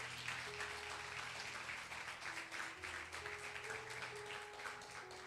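Congregation applauding at a church service, a steady wash of clapping filling the whole span with sustained tones from instruments or a held note underneath.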